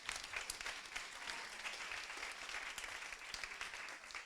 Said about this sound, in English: So huge round of applause, all of Girls in Tech.